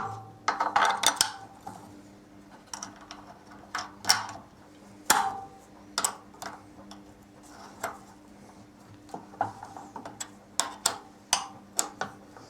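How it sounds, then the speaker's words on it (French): Metal parts of a pre-assembled garage door opener arm being fitted, with a nut unscrewed: a run of sharp metallic ticks, clinks and small rattles at close range, irregular and with no talking. "Donc maintenant on va mettre le bras de l'automatisme, on dévisse l'écrou."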